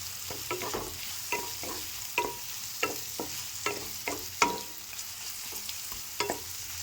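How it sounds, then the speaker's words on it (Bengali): Vegetables with chili, cumin and coriander powder stirred in a hot pan, a steady sizzle broken by a regular rhythm of spatula scrapes and taps, close and clear with no voices. "দিয়ে এবার এর সাথে আমি ভালো করে মিশিয়ে নেব।"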